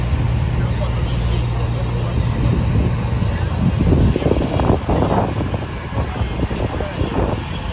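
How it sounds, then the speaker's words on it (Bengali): A steamer boat cruises along the Hudson River in New York City, its low engine hum and water wash carrying under heavy wind buffeting on the microphone, with voices talking nearby. "একটা জাহাজ জাহাজ না একটা স্টিমার চলেছে"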